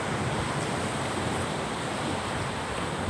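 Sea waves at a beach, a steady, dense wash of surf heard close by with some wind buffeting the microphone, no voices.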